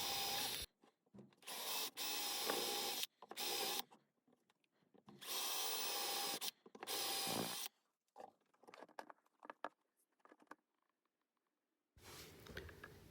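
Bursts of a power drill whine pre-drilling holes into wood, several on-off runs with short pauses, followed by quieter scraping and handling noises.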